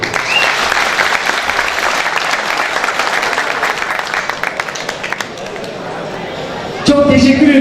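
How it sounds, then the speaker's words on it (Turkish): At an iftar festival gathering, a large crowd breaks into sustained applause, a thick wash of clapping that thins toward the end before a louder burst of voices or music takes over. "burada onları bir alkışlayalım"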